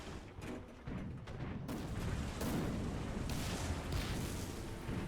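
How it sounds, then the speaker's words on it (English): 37 mm cannon shells from a strafing MiG-15 slam into the dirt around an M60 medium tank in War Thunder, a dense rumbling barrage of overlapping booms and impacts, loud and continuous. "that's just the 37 mil shells hitting around the dirt"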